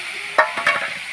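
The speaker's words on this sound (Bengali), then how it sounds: "মশলাটা কষা হয়ে গেছে, এবার আমি আলু আর মাছের কাঁটাগুলো দিয়ে দিলাম।" Potatoes and boal fish bones drop into a sizzling fried spice paste, a short burst of hiss and clatter followed by a few soft stirring scrapes, close and fairly loud.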